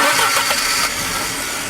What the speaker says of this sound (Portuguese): Dê partida no motor